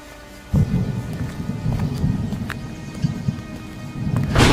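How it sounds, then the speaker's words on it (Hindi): Heavy cartoon rain pours onto an old factory roof in a dense, drumming wash that starts abruptly and stays loud throughout. A bright crash swells in at the very end. "तभी अचानक आसमान घिर आया और तेज बारिश शुरू हो गई। पुरानी फैक्ट्री की छत पर पानी जोर जोर से गिरने लगा।"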